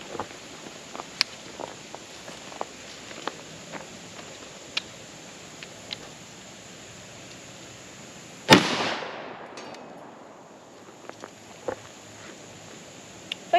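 A single 12-gauge shotgun blast with a 2 3/4 inch high-brass shell, fired with a LimbSaver recoil pad, booms sharply and loud at close range, then trails off in a fading echo amid faint outdoor ambience.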